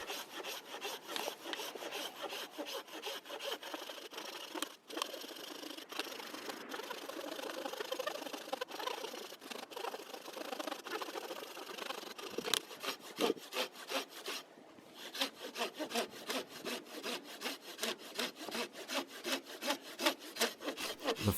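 Coarse-bladed hand saw cutting through a wood branch, a steady run of fast, close rasping strokes that keeps going for the whole stretch.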